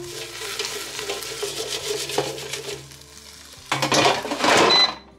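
A food-filled air fryer basket is shaken, a scraping, rustling clatter that rises loudest near the end, over a low hum with musical tones in the background.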